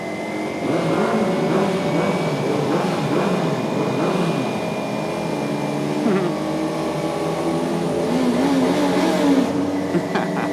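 A car engine revs hard to redline and climbs in pitch, a steady loud roar with shifting harmonics, heard from inside the vehicle.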